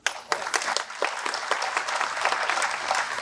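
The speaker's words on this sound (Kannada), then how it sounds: "ಸೊ ನೀವು ಚಪ್ಪಾಳೆ ಹೊಡಿತಾನೆ ಇದ್ದೀರಾ" Audience applause at an inauguration ceremony for Vachana Ventures Pvt. Ltd. in Bidar, a sustained patter of many hands clapping at moderate volume after a sharp start.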